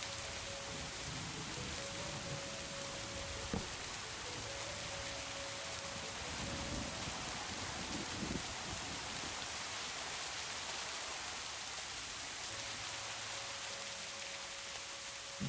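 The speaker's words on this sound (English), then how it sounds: "it does seem like it is constantly raining in the game" Steady video game rain hisses evenly throughout, a dense wash of falling drops with a faint tonal hum underneath, fairly quiet and with no voices.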